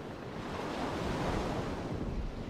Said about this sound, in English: Now we get a good gust of wind going.